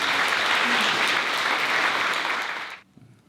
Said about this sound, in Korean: 여러분 박수 해주시기 바랍니다